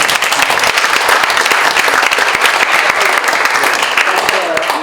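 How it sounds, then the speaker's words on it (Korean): A seminar audience at a suicide-prevention policy forum breaks into loud, sustained applause, thick and continuous throughout, with a voice faintly present beneath. "큰 박수."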